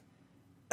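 A single sharp cough from a man bursts out at the very end after near silence, close and fairly loud.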